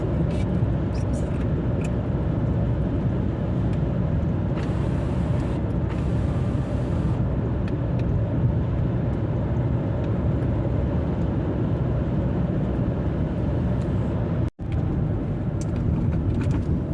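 Heavy car cruising at about 95, a loud, steady road and engine roar filling the cabin without a break, with one brief dropout near the end.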